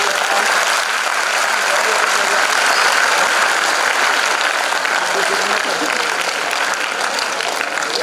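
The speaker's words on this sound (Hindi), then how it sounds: "आपकी तालियों की गूंज के साथ मैं इस्तकबाल करता हूँ" An audience in a hall applauds to welcome a guest at an event in Ahmedabad, Gujarat, with loud, dense, sustained clapping at an even level throughout.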